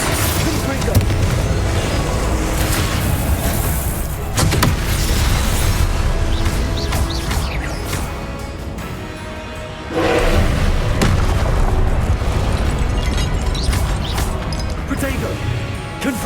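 Hogwarts Legacy spell explosions from Confringo boom and crash loudly in repeated heavy blasts over game music, with a brief lull partway through and a fresh impact after it, while a voice calls out.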